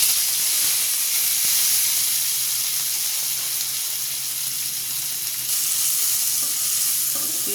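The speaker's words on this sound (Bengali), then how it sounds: "এখন এই তেলে আমি কাঁচামরিচ আর পেঁয়াজ কুচিগুলো দিয়ে দেব।" Green chilies and chopped onions frying in oil left from frying shing and tangra fish, a dense, even hiss of sizzling throughout, close by with no talk.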